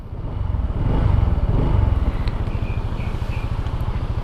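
A new 2022 Honda Vario 160 scooter engine runs close by, a smooth low putter with a steady pulsing beat that swells briefly as it revs, then settles into an even idle-like throb.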